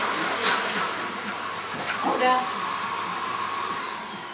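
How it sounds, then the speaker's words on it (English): A vacuum cleaner runs steadily on carpet indoors, a continuous droning hum throughout with a few louder bumps, while a person speaks briefly over it. "I'm terrified of vacuum cleaners."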